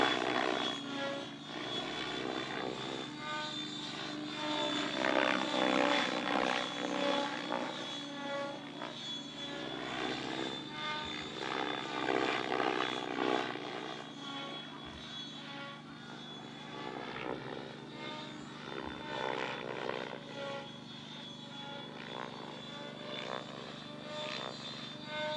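Engine of a model aerobatic airplane at a 3D championship flying set manoeuvres, a continuous buzzing drone that swells and fades as the plane moves, with no talk.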